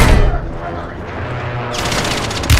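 Rapid bursts of weapon fire in the battle royale shooter Apex Legends crackle loudly and continuously up close, under and between excited player voices.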